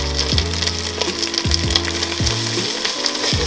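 Turmeric-coated rice toasting and being stirred in a pan, a soft steady sizzle with scraping strokes of the spoon repeating every second or so, with no voices.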